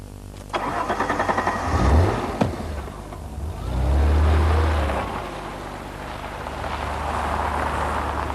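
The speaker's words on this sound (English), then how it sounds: "I've always loved the Alfa V6 unit. It's got a lovely exhaust snarl to it" An Alfa Romeo 164 with a V6 and automatic gearbox cranks and fires up, then gives two throaty revs with a raspy exhaust snarl before settling to a steady idle, heard up close without talk.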